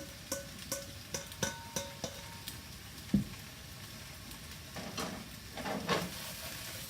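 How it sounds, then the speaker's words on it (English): An onion and garlic mixture drops into a pan of caramelized squash with a few quick clinks and taps early on, followed by a steady, soft sizzle and stirring close by. "and also add the onions and garlic mixture back into the pan."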